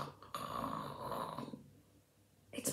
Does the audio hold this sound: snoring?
yes